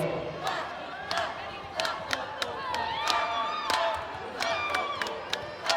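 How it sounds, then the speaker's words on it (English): Volleyball fans at the GCU Arena chanting for the Lopes, a fairly distant crowd with rhythmic shouted chants punctuated by sharp claps and stomps at regular intervals. "Crowd getting a little bit impatient, starting to chant for the Lopes."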